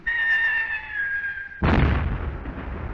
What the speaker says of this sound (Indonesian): Sebuah peluru meriam melengking dan meledak di dekat saat mereka semua menunduk untuk berlindung